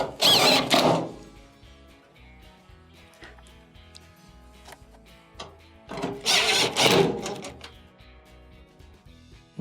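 A power screwdriver drives screws back into the top of a Maytag dryer during an idler assembly repair, with two short loud whirring bursts separated by quiet handling clicks and rattles.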